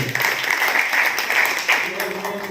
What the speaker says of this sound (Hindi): इस बात के लिए ताली हो जाए, जोरदार ताली